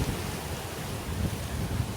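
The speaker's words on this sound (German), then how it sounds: "haben wir jetzt hier beim letzten Stück vom Klaelven nochmal eine ordentliche Portion Gegenwind gebucht" Strong headwind buffets the microphone on the Klarälven river near Lake Vänern, a steady, dense roar of wind rush and low rumble with faint water wash, continuous and loud, no voices.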